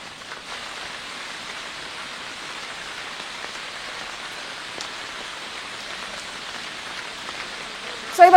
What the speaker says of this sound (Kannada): ಮಳೆ ಹೆಚ್ಚಾಗಿರೋದ್ರಿಂದ ರಸ್ತೆಯಲ್ಲಿ ನೀರು ನಿಂತಿರೋದ್ರಿಂದ ಹಲವು ರಸ್ತೆಗಳಲ್ಲಿ ವಾಹನ ಸಂಚಾರಕ್ಕೂ ಕೂಡ ಅಡೆತಡೆ ಆಗ್ತಾ ಇದೆ.